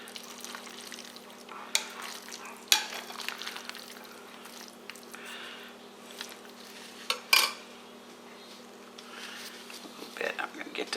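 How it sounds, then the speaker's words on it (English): A cold seafood pasta salad gets stirred in a bowl, faint scraping and a few sharp clinks of utensil against dish, spaced irregularly over a quiet room hum. "Let's make sure it's all stirred in."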